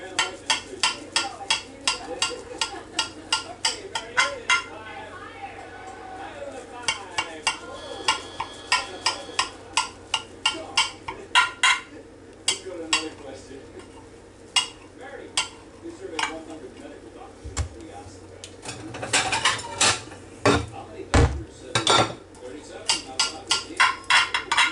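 A knife cuts into a venison meatloaf on a plate with a run of quick, close scraping and tapping strokes, then louder clinks near the end, while people talk quietly in the background.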